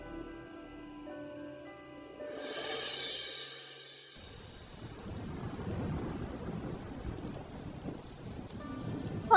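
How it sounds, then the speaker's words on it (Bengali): A cartoon rainstorm with thunder builds, starting with a fading tonal bit, then a thunder rumble and steady heavy rain drumming on surfaces for several seconds. "হঠাৎ করে এ কি ঝড় বৃষ্টি শুরু হলো গো?"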